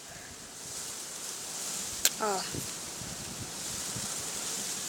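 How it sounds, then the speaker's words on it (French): Steady outdoor wind rushes across the microphone as broadband noise throughout, with a brief clicking burst and a short exclamation midway, recorded near a spider on its web. "Putain de vent."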